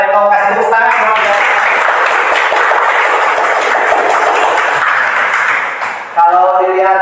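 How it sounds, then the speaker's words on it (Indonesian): A classroom of students claps steadily for several seconds, a dense, loud wash of applause that tapers off near the end, with a teacher's voice heard before and after. "Kasih tepuk tangan."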